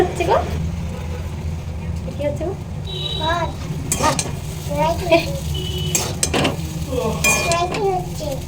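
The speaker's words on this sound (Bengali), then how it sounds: "আমি ম্যাগিগুলোকে দিয়ে ভেজে নেবো ভালো করে সস টস দিয়ে ম্যাগি মশলা দিয়ে" Maggi noodles with egg and potatoes are stir-fried in a pan: a low frying hiss runs under repeated clinks and scrapes of a spoon against the metal pan, with a voice talking over the cooking.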